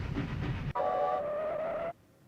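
A moving train in the video game MediEvil: a rumbling start cuts to a steady whistle-like tone with a low drone lasting about a second, then stops abruptly into near silence.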